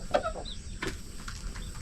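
Chickens in a coop give a few short, nearby clucks, irregular and moderately loud, with low background rumble throughout.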